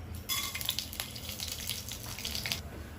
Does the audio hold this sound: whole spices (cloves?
yes